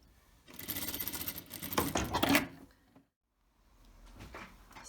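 A sewing machine stitches the hems of a kimono-style robe in a steady, busy run of about two seconds. It stops, then quieter handling sounds follow.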